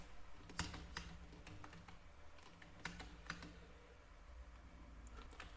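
Code being typed on a computer keyboard while building a COVID-19 status checker Android app: soft, irregular key clicks with a few sharper taps, close by and fairly quiet, no voices.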